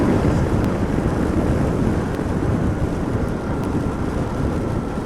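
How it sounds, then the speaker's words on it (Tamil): Heavy rain roars steadily with strong wind buffeting during a KTM Duke 200 motorcycle ride on the hairpin-bend road from Pollachi to Valparai, a dense constant wash with no let-up. "நல்லா மழை பெய்ய ஆரம்பிச்சிருச்சுங்க."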